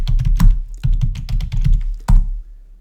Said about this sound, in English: start typing timber framing